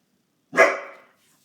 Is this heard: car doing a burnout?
no